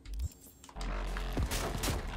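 Gunfire in Cyberpunk 2077 makes a short burst of shots after a single early crack, fairly faint and dense within a game soundscape.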